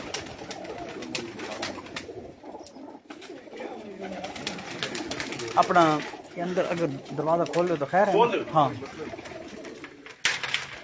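Flying pigeons kept on a rooftop coo in repeated soft, throaty calls that grow clearer toward the middle. They sound close, while someone talks intermittently over them.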